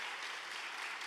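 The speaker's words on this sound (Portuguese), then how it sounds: "Vamos aplaudir a Jesus pela vida do irmão." A church congregation applauding, a brief, faint burst of steady clapping heard at some distance.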